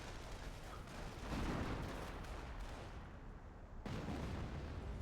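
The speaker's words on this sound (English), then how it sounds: "And I dropped artillery on their heads right now." Artillery barrage in the World War II strategy game Company of Heroes on the Lorraine map, a dense stretch of booming impacts and rumbling blasts that swell and overlap, loud and continuous with no talk.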